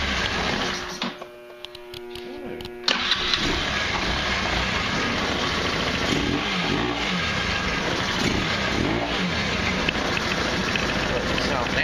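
An engine fitted with a Uni filter intake is cranked after a few quiet seconds, catches abruptly, and then settles into a loud, close, steady idle with a raspy intake note that continues to the end.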